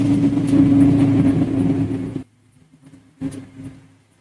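A car engine revs loudly and steadily for about two seconds, cuts off abruptly, then a brief second rev follows; the engine is misfiring on one bank at idle.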